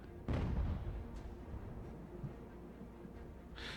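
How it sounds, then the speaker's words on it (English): A warship's cannon broadside in Ultimate General: American Revolution lands as one deep, booming blast early on, then fades into a low rumble. A few faint thuds follow at a distance. "We're going to take a broadside from Araxis."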